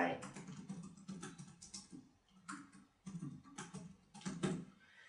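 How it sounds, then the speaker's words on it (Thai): Keys on a computer keyboard typed in short bursts with brief pauses, quiet and close, entering a name. "เช่นนักศึกษาพิมพ์ชื่อลงไป"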